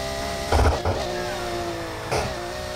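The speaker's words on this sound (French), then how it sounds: "Après, on entend surtout le turbo." Turbocharged car engine in the NFS Heat racing game, a steady engine tone with two short surges where the turbo spools and hisses.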